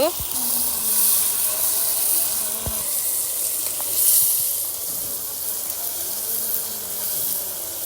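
Chicken pieces land in a pan of frying tomatoes and spices, setting off a steady, close hiss of sizzling that holds throughout, with a couple of brief clanks near the start.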